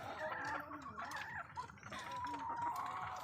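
Chickens at a poultry farm cluck and call continuously at close range while being fed, with overlapping voices from a small flock and no talking.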